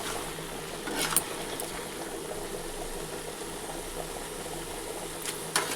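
Carrot halwa simmering in a pan as its water cooks off, giving a steady close bubbling hiss, with a couple of brief clatters near the start and the end.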